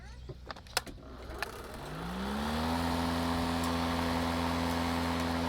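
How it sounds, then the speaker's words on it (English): A few clicks and clatter, then a DeWalt Gen 2 cordless lawn mower (DCMWP233U2) motor spins up and settles into a steady, smooth low-speed whir, close by. "This lawnmower senses when it's hitting thicker grass and it revs up. Otherwise it runs at a lower speed."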